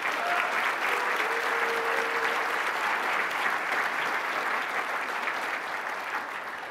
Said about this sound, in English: A little round of applause, or a big round of applause for Hannah.